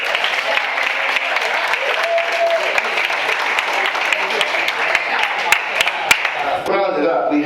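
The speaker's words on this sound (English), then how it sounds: "Please give him a round of applause to Arthur Akers." Sustained applause from an audience at a family banquet fills the room, dense and steady, with a voice starting to speak near the end.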